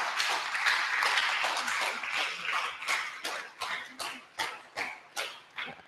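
Audience applause at a sports-themed event, a dense burst of clapping that thins into a slowing series of fewer, separate claps before fading out, with no talk over it.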